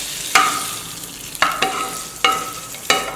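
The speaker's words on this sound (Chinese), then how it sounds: "翻炒均匀就可以出锅了。" Peppers, wood ear mushroom, bamboo shoots and onion stir-fried in a hot oiled wok, with four sharp scraping tosses of a spatula over a soft steady sizzle, close and loud.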